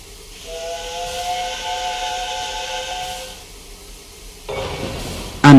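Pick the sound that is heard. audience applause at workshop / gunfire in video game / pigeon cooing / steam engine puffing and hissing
steam engine puffing and hissing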